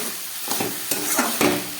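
Coriander powder, cumin powder and a chopped green chili fry in a pan while being stirred, a soft steady sizzle broken by several scraping strokes of the spatula.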